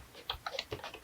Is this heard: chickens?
no